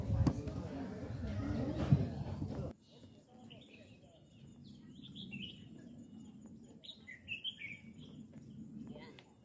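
Birds chirp and call in a wetland park, scattered bright tweets rising over steady insect and ambient hum after a burst of nearby talking at the start.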